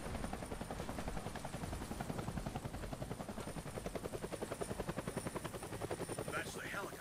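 Helicopter from the Deadlight video game, a steady rapid rotor chop that holds loud and close throughout with a faint high whine over it.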